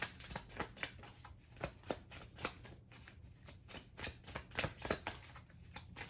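Tarot cards are shuffled close up in a quiet room, with soft rhythmic riffles and slaps repeating steadily throughout.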